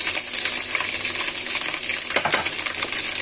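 Chicken breast pan-frying in hot oil gives a steady, dense sizzle and crackle, close and constant, with faint clatter underneath and no talking.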